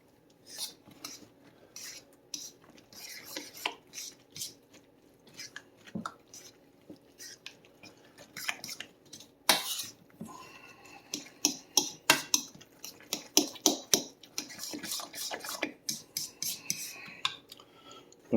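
A spoon scrapes and clinks against a bowl while cornbread batter is mixed with shredded cheeses, with irregular wet stirring taps that grow busier and louder toward the end.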